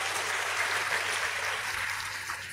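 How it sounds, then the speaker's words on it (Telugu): A congregation at a church service claps hands in a dense, continuous wash of applause that fades slightly toward the end, with no voices. "చప్పట్లు కొట్టి దేవుని మయంపరచండి"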